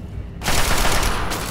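A player's weapon fires in the video game Fallout 3, a dense loud burst of rapid gunfire that starts abruptly partway through and keeps going to the end, with no talking.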